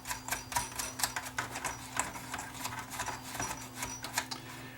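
Rapid irregular clicking and ratcheting of a Sanyo VHR-H600 VHS VCR switch rotor mechanism spun by hand, close and crisp, in quick bursts with no voices.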